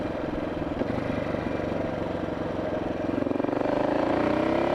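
A 1979 Yamaha XT500 single-cylinder motorcycle engine runs steadily close by, a throbbing low thump that rises in pitch near the end as it revs slightly; its clutch is out of adjustment and it nearly stalls.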